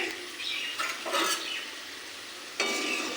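Potato pieces frying in hot oil in a home kitchen while chicken is being cooked, a steady soft sizzle with brief louder bursts of crackle and stirring, close by with no talking.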